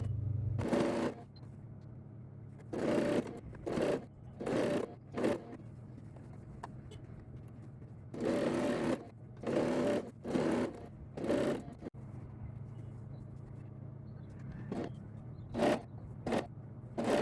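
A sewing machine stitches lace onto a baby girl's dress in short repeated bursts separated by quiet gaps, each run a close whirring buzz.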